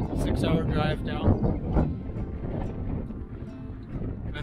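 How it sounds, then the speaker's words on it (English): Wind at Homer, Alaska, buffeting the microphone in rough low gusts on a windy winter day, heaviest near the start, while someone talks over it. "It's a windy day here."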